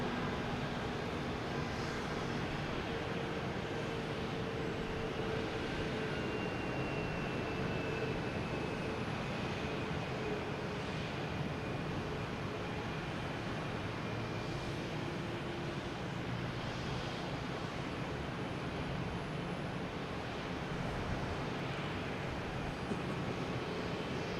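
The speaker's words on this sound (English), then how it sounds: "we have JetBlue heading to Raleigh-Durham in A220" A JetBlue Airbus A220 airliner at Boston Logan Airport, bound for Raleigh-Durham, gives a steady distant engine roar that holds evenly throughout, with no speech.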